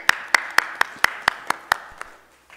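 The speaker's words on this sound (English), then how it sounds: "Let us clap our hands for Jesus." A congregation claps hands in unison at a Sunday church service, about nine sharp, evenly spaced claps in quick rhythm, close and clear, then fading out.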